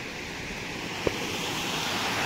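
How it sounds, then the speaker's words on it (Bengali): Water flowing steadily at a dam, a continuous broadband rushing wash with no pauses, one brief thump partway through. "এই হচ্ছে ফ্লো জলের।"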